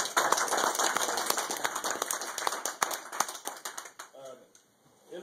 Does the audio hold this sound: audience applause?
yes